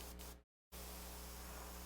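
Airbrush spraying Pro Acryl acrylic paint onto a snake model, a steady close hiss of air and paint that cuts out briefly for a split second, then resumes continuously.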